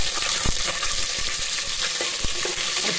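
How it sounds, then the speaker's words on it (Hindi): Potato pieces tipped into a hot tempering of mustard seeds and oil set off a loud, dense sizzle with crackling spatter throughout and a few sharper pops, close up and without any talk. "अब इसमें डाल देंगे आलू"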